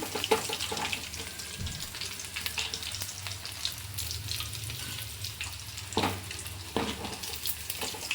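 Fish frying in a pan sizzles steadily throughout, with scattered crackles and a few clinks of a utensil, no talking.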